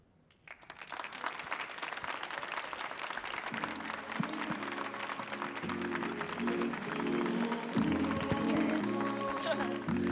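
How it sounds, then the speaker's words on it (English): A live audience at an outdoor poetry festival stage in DC cheers and claps for a youth poet after her reading, the applause building steadily and staying loud, with a voice speaking over the crowd. "Clap for the poet, y'all"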